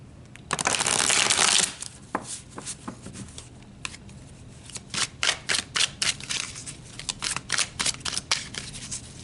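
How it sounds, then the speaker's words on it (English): Tarot cards being shuffled close by, a dense riffling burst at first followed by a series of quicker, separate card flicks and slaps. "So let's pull a few more tarot cards."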